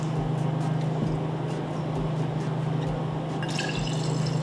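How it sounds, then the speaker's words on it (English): Lemon juice trickling into a jar holding ginger bug, a steady close liquid pour over a constant low hum, with a brighter splash near the end. "We're gonna add more lemon juice."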